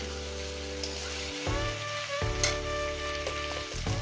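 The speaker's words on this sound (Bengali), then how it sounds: "এখন আমি ভেজে যাবো" Vegetables fry in a pan for a vegetable dal, a steady broadband sizzle running the whole time over a sustained low tonal hum that shifts pitch a few times.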